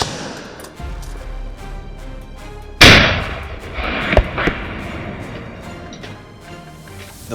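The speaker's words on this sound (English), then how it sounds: "Several gunshots rang out in quick succession." Hunting shots fired at a wild boar in an oak forest: one sharp loud crack, then a few fainter quick reports echoing outdoors amid quiet background noise.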